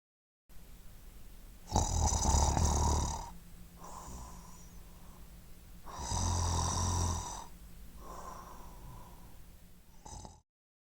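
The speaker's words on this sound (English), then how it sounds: "The answer is snoring." Two long snoring breaths from a sleeping person in a sound quiz, each rasping inhale loud and close with a softer exhale after it, repeated in a slow, steady rhythm.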